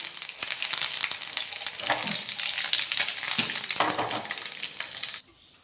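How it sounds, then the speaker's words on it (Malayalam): Mustard seeds, broken dried red chillies and curry leaves fry in hot oil as a tempering for kurukku kalan. A loud, dense sizzle with crackling pops runs steadily close by, then cuts off abruptly at the end. "എണ്ണ നന്നായിട്ട് ചൂടായി വരുമ്പോൾ അര ടീസ്പൂൺ കടുകിട്ട് പൊട്ടിക്കാം ആ കൂടെ ഒരു മൂന്നാല് വറ്റൽമുളക് നുറുക്കിയതും രണ്ട് മൂന്ന് കണ്ട് കറിവേപ്പിലയും കൂടി ചേർക്കണം"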